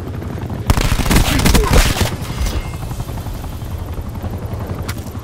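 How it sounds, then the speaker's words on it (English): An enemy attack helicopter in the Call of Duty video game thumps overhead with a loud, continuous rotor drone, joined by a burst of rapid gunfire early on that fades back to the steady chopper rumble. "Enemy attack chopper above."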